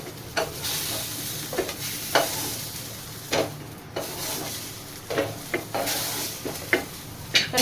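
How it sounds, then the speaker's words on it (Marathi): Tomatoes roasting in a pan for tomato chutney, with a steady sizzle and frequent short scraping, stirring knocks of a spatula against the pan, close and fairly loud, no talking. "टमाटर भाजले छानपैकी."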